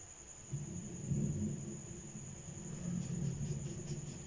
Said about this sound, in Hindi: आज बहुत ज़्यादा बादल छाए हुए हैं बाहर और बादल गरज भी रहे हैं।